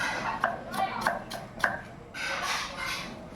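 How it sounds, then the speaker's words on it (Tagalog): Onions being chopped with a knife in a home kitchen, a few sharp, evenly spaced knife taps on a board followed by a softer rustle, close and moderately quiet. "Chap-chap muna tayo ng sibuyas para gigisa natin"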